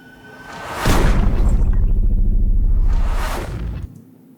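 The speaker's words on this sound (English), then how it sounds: "We've got these hits, that drone, the riser, and this transition." Two loud swelling whooshes bracket a heavy low drone, with impacts landing as each sweep peaks before the sound cuts off abruptly.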